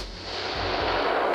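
A rifle shot during a nighttime thermal hog hunt, heard as a single loud, broad blast that booms and lingers through the short stretch with no talking.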